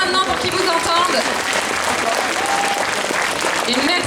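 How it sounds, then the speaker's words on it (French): Loud, dense audience applause for cosplay contest participants at a French geek convention, continuous clapping from a large crowd filling the whole stretch, with scattered voices and cheers mixed in. "Je vais vous demander de les applaudir bien fort"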